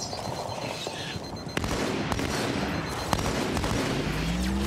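Continuous gunfire in the Halo 2 Anniversary Edition video game, dense rapid shots and bursts with a sharper crack near the start, loud and sustained throughout over a rumbling battle backdrop.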